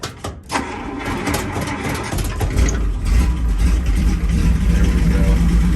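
An antique Plymouth car engine cranks and catches, then settles into a loud, steady rumbling idle close by.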